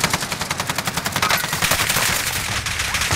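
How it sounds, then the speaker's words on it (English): Rapid automatic gunfire from a multiplayer game on the Caldera map, a steady rattling stream of shots that stays fairly close and dense with no talk over it. "you can hear them shooting over there"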